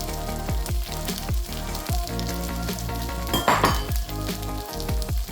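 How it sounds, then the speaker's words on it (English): Bangkok street-style pad thai with green onions and bean sprouts being stir-fried in a pan, a strong continuous sizzle broken by quick stirring and faint clinks, with steady tonal sound running throughout. "Again, quickly stir it. Quickly stir it up."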